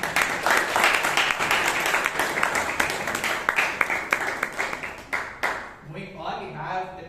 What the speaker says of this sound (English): A round of applause to Toastmaster Vishal and Toastmaster Rashi.